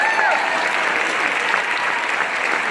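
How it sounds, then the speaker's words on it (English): Congregation at a worship service breaks into sustained applause, a dense steady wash of clapping filling the room throughout, with faint voices mixed in. "give that a round of applause"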